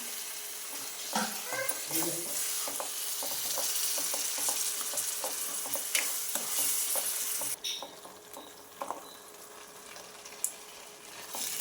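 Yogurt being stirred and cooked on a low flame for aloo kurma, with a soft continuous sizzle and repeated spoon scrapes against the pan, moderately close, quieting toward the end.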